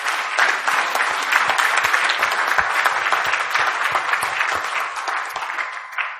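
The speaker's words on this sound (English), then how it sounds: "Let's give them one more round of applause." A town hall audience gives candidates a round of applause at a public forum, steady dense clapping from many hands filling the room for about six seconds before tapering off.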